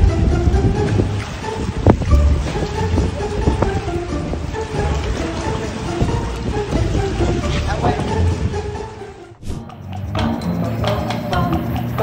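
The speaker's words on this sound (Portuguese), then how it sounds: "Foi um teste de resistência à tempestade com rajadas de vento de até 130 km por hora." Storm gusts of up to 130 km/h batter a speedboat, giving a loud, continuous roar of wind and buffeting that dips briefly in the final seconds.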